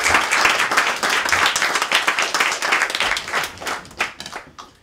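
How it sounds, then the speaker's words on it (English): Audience clapping and applause at a live storytelling game, a dense burst of hand claps that thins out and fades over about five seconds. "give a round of applause for the game of story"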